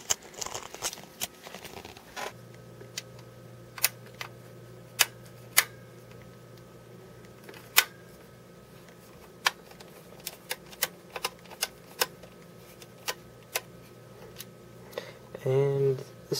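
A screwdriver backs the screws out of a power supply inside a Dell Dimension 8200 computer case, giving sharp isolated clicks and ticks at irregular intervals against a quiet room, with a faint steady hum underneath.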